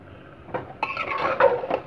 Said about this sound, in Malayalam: ബീഫ് ചേർക്കാം. ചേർത്തിട്ട് ഇനി ഇത് മിക്സ് ചെയ്തെടുക്കാം.